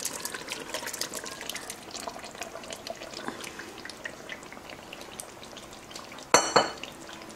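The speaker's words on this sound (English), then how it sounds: "add a bit of water to that, and what we're going to do is pour this inside of here" Sauce thinned with water poured into a pot of Dominican chicken stew, pollo guisado, a soft continuous liquid sizzle and trickle up close, ending in a brief louder splash and clatter near the end, with no talking.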